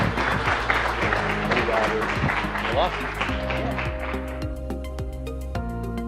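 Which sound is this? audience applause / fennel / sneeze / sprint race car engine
audience applause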